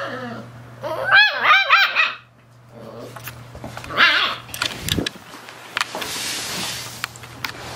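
A Belgian Malinois police dog barks and whines in several short bursts, fairly close, with pauses and some rustling between the outbursts.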